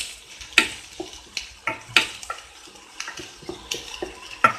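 Onions, ginger-garlic paste and capsicum sautéed in a pan for bread Manchurian, with a spoon repeatedly stirring and scraping the metal pan in sharp, uneven clacks over a low sizzle, close and alone.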